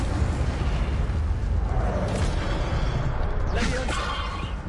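The Incendio fire spell in the video game Hogwarts Legacy bursts out as a loud, roaring whoosh of flame over a rumbling low end, with sharper crackling flares toward the end.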